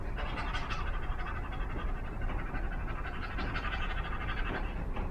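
A person doing a yoga breathing exercise imitates a puppy with rapid, rhythmic panting, quick breathy huffs repeating steadily and close-up.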